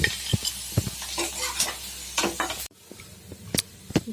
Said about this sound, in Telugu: డ్రై ఫ్రూట్స్ అన్నీ కొద్దిగా కలర్ చేంజ్ అయ్యేంత వరకు ఫ్రై చేసుకుందాం.